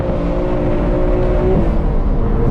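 A manual BMW M3 F80 drifts, its engine holding a steady, loud droning rev with a brief shift in pitch midway, heard from inside the car with no talk.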